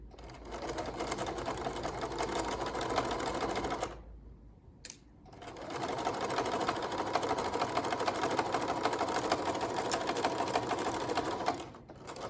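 A sewing machine stitches a flat felled seam along a fold, running steadily and loud up close with a dense mechanical whir, pausing briefly midway, then running on before stopping near the end.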